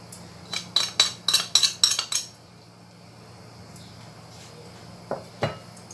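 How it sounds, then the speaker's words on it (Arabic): A utensil stirs egg with salt, pepper and turmeric in a bowl, giving a quick run of bright clinking taps against the bowl for about two seconds, then quiet with a couple of isolated clinks near the end. "هقلب ده كويس اول اول مع البيضة كده"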